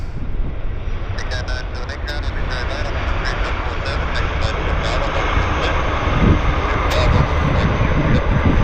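An airplane lands at Vancouver airport, a loud, steady roar of jet engines and rushing air that rises slightly toward the end, with people talking over it.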